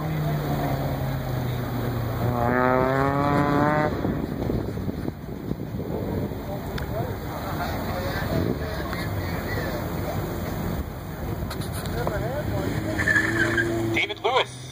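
A Mazda Miata at an SCCA autocross in a parking lot at the Giant Center, Hershey, Pennsylvania, revs and shifts through a run, engine rising and falling with tire noise, while a voice talks over it.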